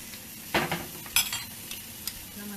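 Food fries in butter with a little oil added, giving a soft sizzle under a few light scrapes and clinks of a utensil against the pan.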